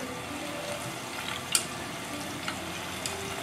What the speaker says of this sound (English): I would say fry it about 4 to 5 minutes until they golden brown.